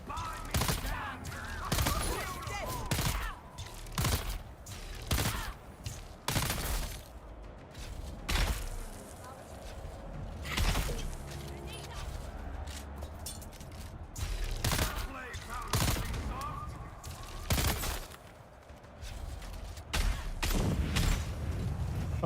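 Bursts of gunfire in the desert survival game Dune Awakening come as repeated sharp loud cracks spread through the scene. Some shots are close, some are fainter volleys, over a constant rumbling background with other game noise.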